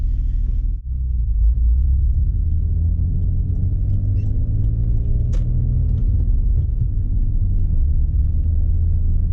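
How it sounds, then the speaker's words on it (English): A Mitsubishi VR4 with an adjusted clutch driving on the street, heard from inside as a loud, steady low engine rumble that holds constant throughout, no voices. "I'll take it for a drive though."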